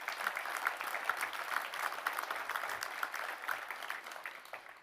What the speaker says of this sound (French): on peut applaudir Véronique.